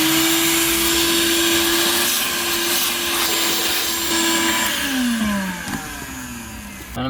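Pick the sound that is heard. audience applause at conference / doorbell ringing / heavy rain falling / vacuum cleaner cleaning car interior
vacuum cleaner cleaning car interior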